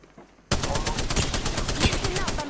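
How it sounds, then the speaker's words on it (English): Sudden rapid automatic gunfire in Apex Legends bursts in after a quiet moment, a loud, close, steady stream of evenly spaced shots that continues to the end. "Getting shot at."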